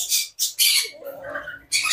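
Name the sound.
cockatoo or lory parrot squawking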